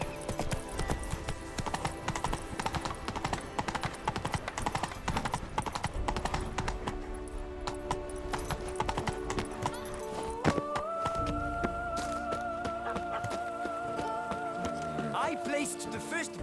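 Horse hooves clip-clopping at a run in The Witcher 3: Wild Hunt (Blood and Wine), a steady galloping rhythm mixed with game music and character dialogue throughout.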